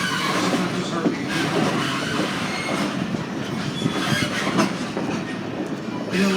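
A passenger train on the Spencer NCTM line rolls along the rails with continuous rumble, rhythmic wheel clacks and occasional squeals, close and steady, with faint voices underneath.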